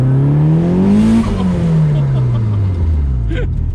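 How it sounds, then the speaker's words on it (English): A modified Nissan Silvia S15 street car accelerates hard with a twin-plate clutch, its loud close engine note climbing steadily before a shift drops the pitch and it pulls again. "When you can hear that twin plate sound."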